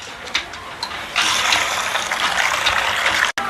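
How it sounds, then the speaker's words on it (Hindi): Fragrant rice being washed in water, a few soft splashes and then a steady rushing pour of water over the grains, fairly close and loud, with no talk. "तो मैं चावलों को अच्छे से धो रही हूँ क्योंकि खुशबू वाले चावल हैं"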